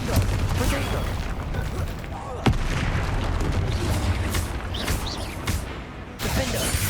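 Bombarda and Confringo spell blasts in the Hogwarts Legacy game: a steady stream of booming impacts and crackling bursts, with one sharp hit standing out in the middle of a dense, busy fight.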